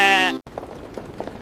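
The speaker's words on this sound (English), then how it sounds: "This sheep is friendly." A single sheep lets out a loud, clear bleat up close, cut off abruptly, followed by quieter rustling and soft background noise.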